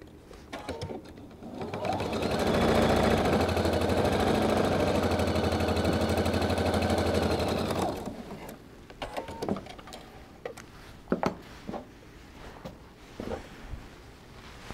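Sewing machine running steadily for about six seconds as quilt strips are stitched together, a loud close mechanical whir that starts and stops cleanly, followed by faint handling clicks and rustle.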